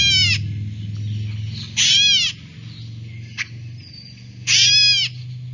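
A mockingbird-like songbird gives a recorded meow call, three loud, close, harsh mewing notes separated by pauses, with a brief faint click between them over a low steady hum.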